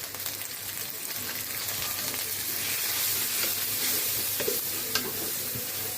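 Onions with ginger-garlic paste fry in a pan for a home-style chicken and gourd curry, a continuous close sizzle with occasional scraping stir strokes and light pops, no talking.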